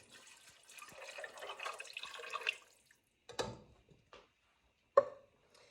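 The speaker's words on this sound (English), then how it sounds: "so we're going to be adding in some water" Water poured into a cooking pot of pasta shells with chickpeas and tomatoes, a splashing stream running a couple of seconds, then scattered drips, clinks and a sharp tap, all close and fairly quiet.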